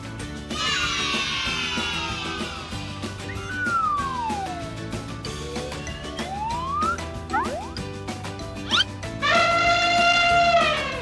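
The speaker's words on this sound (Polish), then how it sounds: "To jest słoń." A loud, brassy elephant trumpet at the end, after a stretch of music with sweeping tonal effects.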